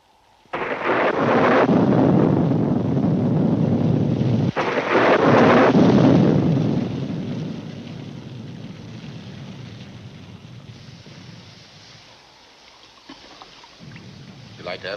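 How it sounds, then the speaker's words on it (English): A thunderstorm sounds in a 1944 film scene: two heavy, close thunder crashes break out a few seconds apart, then a long rolling rumble slowly fades away. "It looks like a storm."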